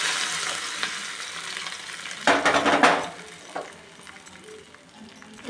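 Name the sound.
cashews and raisins frying in ghee for pongal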